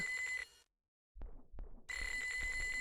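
Telephone ringing in the video game Normal Fishing: a loud electronic ring with a steady high tone, cut off by a brief silence and a couple of sharp clicks, then ringing again.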